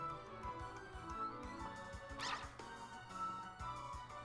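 A wild Pokemon's electronic cry sounds in Pokemon Sword & Shield, short yipping calls repeated over game music at low volume.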